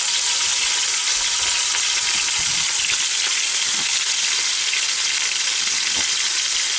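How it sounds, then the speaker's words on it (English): A pot roast sears in a Ninja Foodi Deluxe with a steady, loud frying sizzle and hiss, broken by a few faint clicks and pops, with no talking. "Well, look at how good that sear looks."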